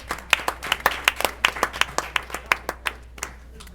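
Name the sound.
audience applause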